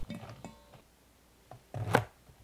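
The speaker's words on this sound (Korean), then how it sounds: "너무 긴 까리고추는 반 잘라주면 먹을 때 더 편하고" Knife cuts through shishito peppers on a cutting board in a home kitchen: a few soft taps early on, then a louder, firmer chop near the end.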